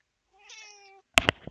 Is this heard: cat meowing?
yes